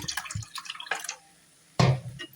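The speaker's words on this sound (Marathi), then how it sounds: "छान असं पाणी ऍड करणार" Water poured into a pan of brinjal curry on the stove, heard as a few close splashing bursts separated by a short pause.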